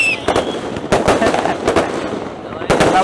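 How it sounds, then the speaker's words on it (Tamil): Firecrackers and fireworks bursting at a Raya celebration, a string of sharp cracks and pops in irregular clusters, some near and loud, with voices of the crowd audible in between. "எல்லாரும் சாப்பிட்டுட்டு பட்டாசு வெடிக்க வந்து ரெடியாக இருக்காங்க."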